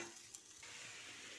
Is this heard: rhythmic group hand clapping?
no